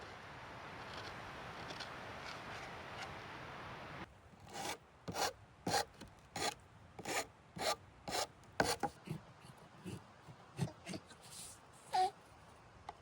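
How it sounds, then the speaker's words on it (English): A metal file rasps across a dried century agave stalk in repeated short strokes, each scrape crisp and close, falling into an uneven back-and-forth rhythm after a few seconds of quiet room noise. "I would use a file or a knife. And you can sand these down a little bit."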